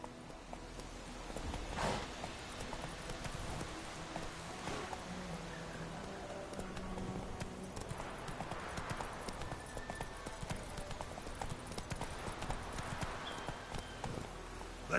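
Roach, the horse in The Witcher, gallops with continuous rhythmic hoof clatter over outdoor game ambience, moderately close, with occasional louder thuds and no clear talk.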